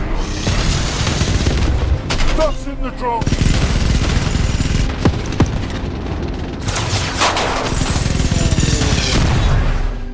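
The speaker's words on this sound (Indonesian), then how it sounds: "Dinas rahasia menembak." Heavy bursts of Secret Service gunfire and booming blasts pound continuously at close range during an attack on Air Force One, dense and chaotic, with voices mixed in under the din.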